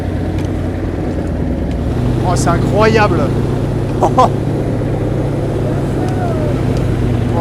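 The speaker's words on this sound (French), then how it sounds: "Là on sent que le moteur ça pousse." A Second World War vehicle engine pulls hard under acceleration, a loud steady low drone throughout, with excited voices speaking over it.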